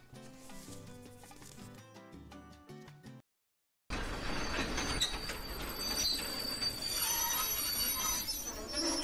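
A crowded suburban commuter train arrives and stands at Dum Dum station after the run from Sealdah, heard as a loud, continuous rumble with squealing wheels and bright metallic tones following a short musical opening and a brief gap of silence.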